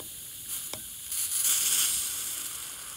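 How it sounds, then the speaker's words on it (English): A steady high-pitched hiss of steam escaping from an overheated pump boiling the water inside it, moderately loud and close, swelling briefly then holding, with a faint tap near the start. "there's actually steam coming out because the pump's so hot,"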